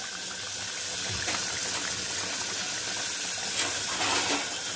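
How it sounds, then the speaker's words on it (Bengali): Water poured into a cooking pot holding potatoes for Bengali rui fish kalia, a steady close hiss and gush of filling liquid running throughout with no talk. "জল দিয়ে দিলাম, আলু টালুগুলো"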